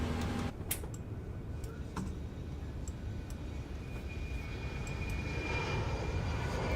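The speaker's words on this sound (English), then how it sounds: "Our APU is spooling up." The auxiliary power unit of a PMDG Boeing 737-8 in Microsoft Flight Simulator 2024 spools up into a steady, moderate turbine whine and rumble, with scattered light clicks from the cockpit.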